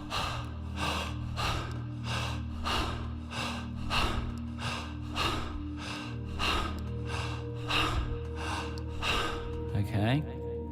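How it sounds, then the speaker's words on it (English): Open-mouthed circular breathing during a guided breathwork session: steady, rhythmic inhale-exhale cycles, about one per second, carrying on continuously under a low background hum, with a faint voice near the end. "we're going to do what's called circular breathing, which will just be with the mouth open"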